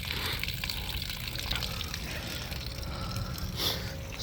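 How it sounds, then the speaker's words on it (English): Water drains steadily out of a camper's cold-side hose during winterizing, a continuous close gushing trickle with no break and no speech. "The water here is still draining."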